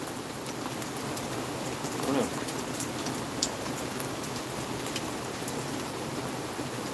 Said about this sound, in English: I am getting hit by rain though.